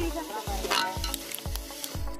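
Tomatoes and onions sauté in a pan for a chicken dum biryani gravy, with a steady close sizzle broken by rhythmic stirring scrapes about every half second, no talking.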